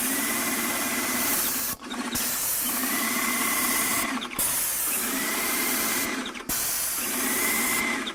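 An airless paint spray gun hisses steadily as it sprays paint onto a cardboard test sheet, loud and close, in four long bursts separated by brief pauses as the trigger is released.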